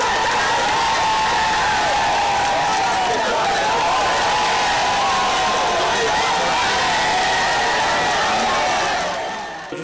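A dense, enthusiastic crowd at a military and paramilitary parade in Benin roars and applauds. The sound is a loud, continuous wash of clapping and cheering that fills the whole stretch and fades slightly at the end.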